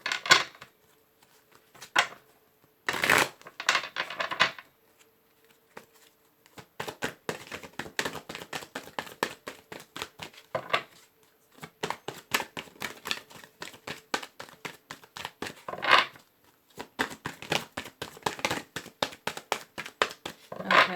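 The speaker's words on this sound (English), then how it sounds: "Okay, last shuffle." Tarot cards being shuffled by hand at close range, a long run of rapid riffling clicks and soft slaps in bursts with short pauses between them.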